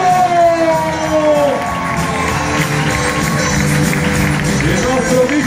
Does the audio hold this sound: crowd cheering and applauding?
yes